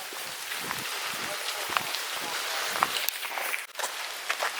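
Light rain pattering outdoors in Dublin on a green walking route, a steady hiss with scattered drops, mixed with footsteps and the brief voices of a small group.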